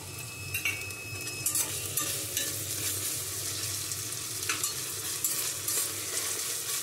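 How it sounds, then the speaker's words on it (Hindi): An onion, ginger and garlic paste frying steadily in a hot pan, with a constant sizzle and occasional scrapes and clinks of a stirring spoon. "प्याज अदरक लहसुन अच्छे से फ्राई कर लेंगे भून लेंगे"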